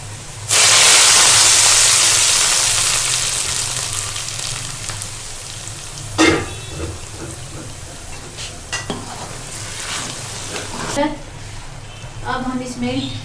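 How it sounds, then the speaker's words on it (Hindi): Onions hit hot oil with a loud, hissing sizzle that slowly fades, browning for a sarson ka saag tempering, followed by scattered stirring scrapes and clinks of a spoon in the pan. "अब हम प्याज ब्राउन करके इसको साग का तड़का लगाएंगे।"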